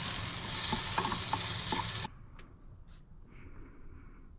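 Shrimp sizzling inside a pineapple over a camp grill, a loud frying hiss for about two seconds with a few light knocks, then cutting off to quiet outdoor background with faint clicks.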